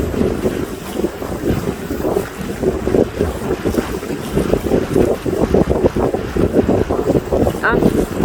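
A boat cruises along a canal in the northern Netherlands, with a steady engine rumble and water noise under heavy wind buffeting on the microphone and someone talking throughout.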